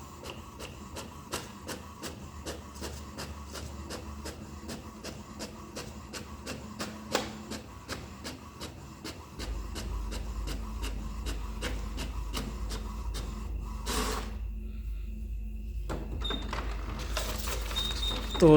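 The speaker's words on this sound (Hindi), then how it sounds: "लगभग अराउंड 16 सेकंड्स में ये फ़ोटो इसने प्रिंट कर दिया है" An HP Smart Tank 670 inkjet printer prints a photo, giving steady rhythmic mechanical ticks and whirs for about nine seconds before switching to a louder continuous drone, with a brief pause and a clunk near the end.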